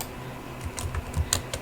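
Short burst of typing on a computer keyboard while a command is entered at a DOS prompt, with several quick, fairly soft key clicks at an uneven pace.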